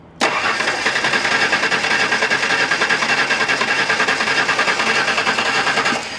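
An old LT van engine starts after a timing adjustment and runs steadily at a fast, even, rattly idle, loud and close, before cutting back near the end.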